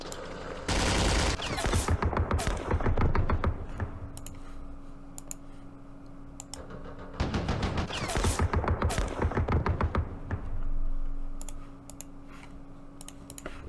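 Gunfire from armoured personnel carriers in a Vietnam War strategy game set at the Battle of Ba Ria, 1968: two dense bursts of rapid shots with a clicking rattle, each lasting a few seconds, over a steady low background hum.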